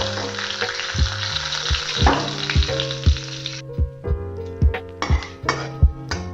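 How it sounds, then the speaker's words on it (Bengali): Bay leaf, dried chilli and panch phoron tempering in hot oil: a loud, close sizzle that fades partway through, punctuated by regular clinks of a spoon against the pan. "ফোড়ন ভাজা হয়ে গিয়েছে"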